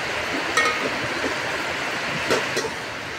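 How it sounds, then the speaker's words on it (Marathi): Afternoon rain falls steadily in Kalyan, a dense even hiss that fills the whole clip, with a couple of faint clinks standing out briefly; no one speaks. "बघा कसं पाऊस पडतो."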